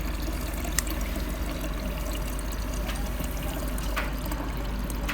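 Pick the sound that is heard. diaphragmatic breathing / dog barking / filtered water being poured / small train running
filtered water being poured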